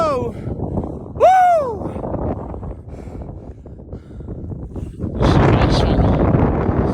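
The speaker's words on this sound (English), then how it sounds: "As soon as I've sat down, it's got really windy though." Strong gusty wind on a snowy mountain climb buffets the microphone in a steady roar that surges louder toward the end, while a voice whoops and speaks briefly early on.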